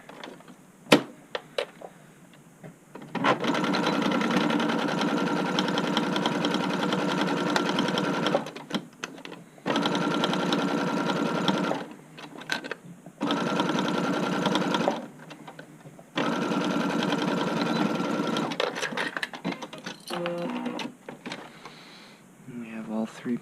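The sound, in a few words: sewing machine sewing a straight stitch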